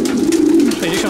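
Pigeons coo in a loft, a close, loud, sustained low throaty coo that wavers and rolls into a second call.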